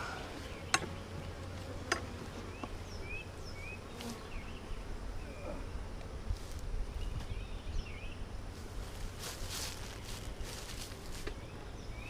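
Honey bees buzz around an open hive during a nectar flow, a steady low drone under brief wingbeat whines passing near, with a few faint clicks and knocks from handling the hive boxes.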